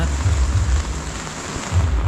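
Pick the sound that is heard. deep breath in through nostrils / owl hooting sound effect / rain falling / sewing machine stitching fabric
rain falling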